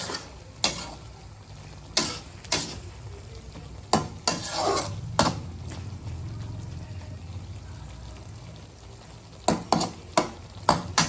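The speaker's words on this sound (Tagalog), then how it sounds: "Halo-haloin natin." Sigarilyas (winged beans) cooking in coconut milk are stirred with repeated sharp scrapes and clacks against the pan in irregular bursts over a low simmering bubble.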